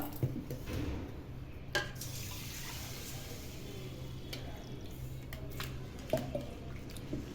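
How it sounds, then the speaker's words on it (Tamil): Rice being washed for Diwali murukku, about three-quarters of a kilo of grain swished by hand in water: steady soft wet sloshing and squishing with light drips and a couple of louder splashes and clinks of a vessel, close by with no talk. "நல்லா கழுவிட்டு ஊற வச்சிடலாம்."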